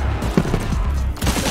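Gunfire in the turn-based video game Showgunners: loud, close bursts of rapid shots with heavy low booms, in two clusters separated by a brief lull.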